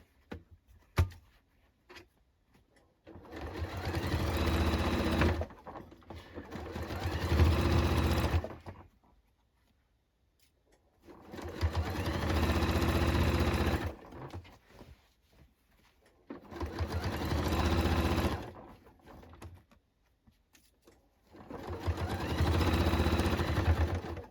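A sewing machine stitches across the back seam of a denim jacket in four sustained bursts of a few seconds each, whirring loudly with quiet pauses between runs.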